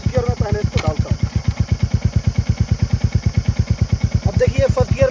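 Motorcycle engine idling in first gear on a bike up on its stand for chain maintenance, a steady rapid low thump throughout, with someone talking over it at the start and end.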